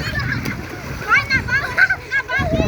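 People splash and bathe in a wide, clear river, water slapping and splattering in irregular bursts while children's voices and adult chatter carry over it.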